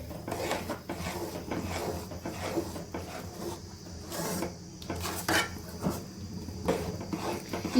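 Mysore pak mixture stirred in a pan with a spoon, giving continuous close scraping and rubbing with light metallic clinks, no voices.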